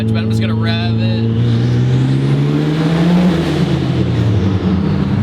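Turbocharged Mitsubishi Evo engine revs hard and loud up close, pitch climbing through a sustained high-load rise before dropping off, with a steady roar throughout.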